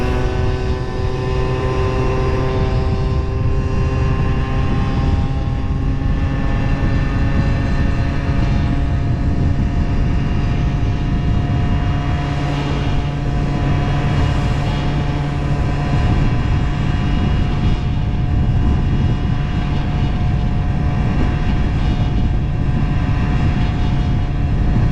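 A steady, loud two-stroke drone from an Aprilia SR 50 scooter held at high revs while riding, heavy wind rumble underneath, the pitch staying fairly constant across the whole stretch.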